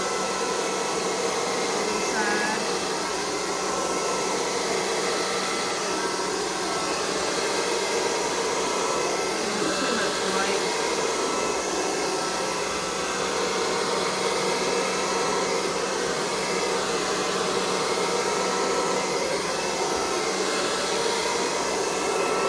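A hair dryer blows steadily and loudly on acrylic paint during a Dutch pour, a continuous broadband whoosh with no pauses.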